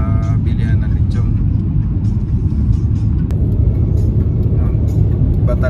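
Inside a new car on the road, a dense, continuous low rumble of engine and tires fills the cabin while voices talk over it.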